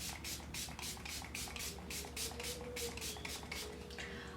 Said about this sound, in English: I love that setting spray.